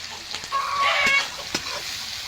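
Chopped tomatoes hit a pan of fried onion and garlic for a mutton curry, giving a soft, close sizzle with a few sharp utensil clinks over about two seconds.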